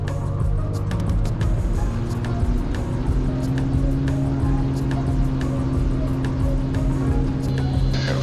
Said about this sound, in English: good to do some practice soft field takeoffs and landings